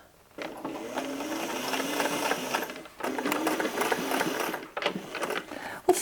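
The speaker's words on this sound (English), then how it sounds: "we're going to sew it as close as we can" A sewing machine runs top stitching with matching thread on a jeans blowout repair: one steady, close run of rapid stitching, a short pause, a second long run, then a few brief bursts at the end. No talking.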